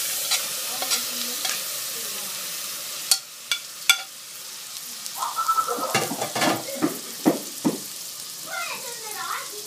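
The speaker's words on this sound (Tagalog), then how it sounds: "igisa ho natin sa butter, 1 teaspoon butter ang ating shrimp" Shrimp sautéing in a teaspoon of butter in a pan for palabok, a steady sizzle with scattered clicks and scrapes of stirring that grow busier toward the end, with no talking.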